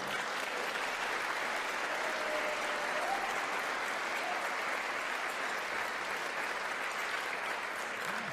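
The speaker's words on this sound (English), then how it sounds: "I want to give another round of applause to our fabulous pianist, Philip Plesher." A round of applause for the pianist at an interfaith Thanksgiving celebration in a temple, a long, even wash of clapping from a sizable crowd, steady and unbroken throughout.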